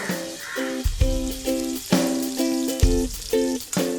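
Chopped green chillies fry in a few spoons of hot oil, giving a steady sizzle broken by sharp bursts and scraping stirs. The sound is close and fairly loud, with no talking.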